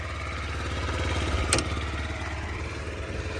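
A Yamaha Gear four-stroke fuel-injected scooter idles close by with a steady, even putter, and a brief sharp click lands midway.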